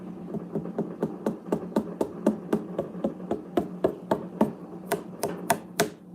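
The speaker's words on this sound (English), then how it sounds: "But yep, I'm gonna cut up my watermelon." A knife chops repeatedly through watermelon in a steady, quick rhythm, each cut a crisp close thunk over a low background hum.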